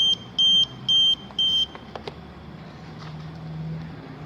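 An Arduino-based motorcycle security system's buzzer sounds four short, loud, evenly spaced beeps in the first second and a half, followed by a few faint clicks and quiet room noise.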